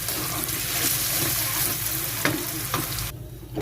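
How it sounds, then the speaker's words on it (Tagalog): Potatoes and carrots fry in a pan, a continuous close crackling sizzle with occasional stirring scrapes, heard alone. "Pa-fry natin yung ating patatas carrots."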